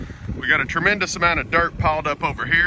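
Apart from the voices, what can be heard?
wind noise on microphone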